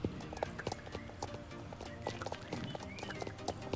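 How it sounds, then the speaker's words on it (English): Horse hooves clip-clopping in the online game Star Stable, a quick, regular run of light clopping beats with faint background sounds. "They are beautiful horses."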